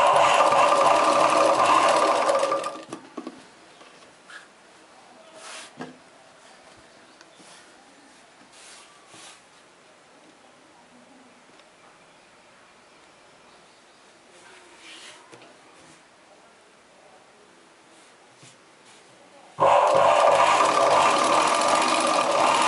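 A sewing machine sews long stitches on a chudidar top, running loud at the start, stopping for a long quieter stretch with faint handling noises, then starting up again.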